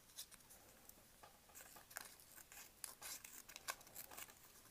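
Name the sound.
multitool scissors cutting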